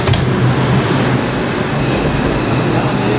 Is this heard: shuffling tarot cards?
no